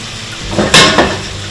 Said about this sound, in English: Dark cherries, they're the sweeter ones. And let that saute.